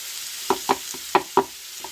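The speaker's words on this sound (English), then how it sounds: "You can see I put my tomatoes there." Tomatoes fry in a pan for chicken stew under a constant hiss of sizzling, while a utensil stirs them in a series of five or six distinct clacking scrapes against the pan.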